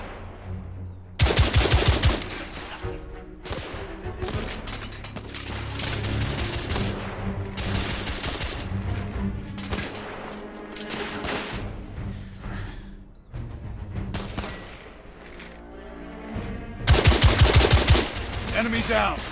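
Gunfire in The Order 1886 video game: dense bursts of rapid automatic and single shots, loud and close, with brief lulls and heavy volleys at the start and end, under occasional voices.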